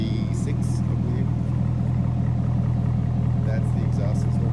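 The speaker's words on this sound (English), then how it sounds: "So it's got a nice throaty roar." Deep, throaty idle rumble from the exhaust of a 2015 Shark Gray Corvette Stingray with a carbon fiber roof, steady and close with faint higher noises over it.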